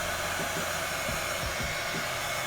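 A heat gun or hair dryer blows steadily up close, heating a football design application, a continuous whooshing roar with no voices.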